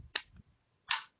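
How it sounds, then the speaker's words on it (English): A clap sounds twice, close and crisp: a sharp smack, then a second, slightly longer one after a short pause, in an otherwise quiet room. "Oh, the clap."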